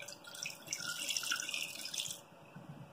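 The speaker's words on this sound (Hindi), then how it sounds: "इसके अंदर अब इतना पानी डालना है ये सेब जो है डूब जाए।" Water poured from a tap into a pot of peeled apples for apple murabba, a steady splashing trickle that fills the pot for about two seconds and then stops, leaving faint background noise.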